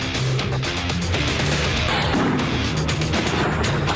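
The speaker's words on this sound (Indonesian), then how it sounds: "Rentetan tembakan pun diluncurkan Zionis Israel ke permukiman warga." A barrage of gunfire strikes residential areas in the Al-Jabal region of southern Lebanon. A dense, continuous roar of shots and booms stays loud throughout with no pause.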